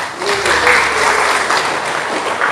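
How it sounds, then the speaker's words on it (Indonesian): An audience breaks into sustained applause for women during a Hindu dharma talk, a steady, dense wash of clapping filling the room, with a faint voice briefly underneath. "tepuk tangan untuk wanita"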